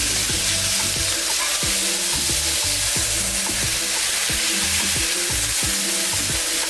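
Hamburger patties fry in a pan with a steady loud sizzle throughout, while repeated scraping thuds mark a spatula flipping them, close up and with no voices.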